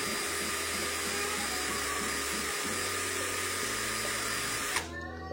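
A Nanwei 42Vf 20V cordless drill runs in second gear with a steady, loud motor whine and gear hum for about five seconds, then cuts off abruptly.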